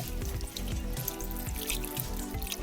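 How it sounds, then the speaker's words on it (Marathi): Plain water splashes over hands as grape paste is rinsed off in a vineyard, a close, continuous running and splattering with small drips and no talk. "हे निवळ पाणी आहे पाण्याने आपण धुवून घेत जाऊत"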